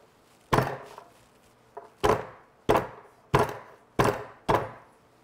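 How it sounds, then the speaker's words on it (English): Five heavy, sharp smashing thunks of a garlic smasher coming down on garlic cloves in a home kitchen, evenly spaced and close, each one loud with a short decaying tail, and quiet between the blows. "My fine recipe calls for smashed garlic, so get your garlic smasher and smash them."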